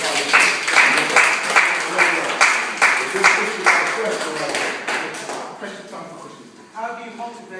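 Audience applause for a speaker at a talk in Birmingham, with a crowd clapping steadily and fairly close for several seconds before the sound thins and fades toward the end.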